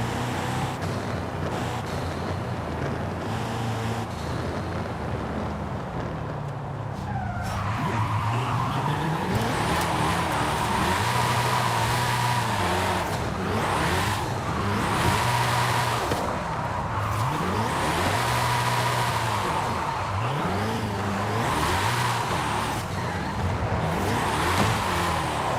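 A Hennessey Venom F5 in Forza Horizon 5 drifts on a track, its engine revving loud and continuous with rising and falling pitch and squealing tires through repeated slides.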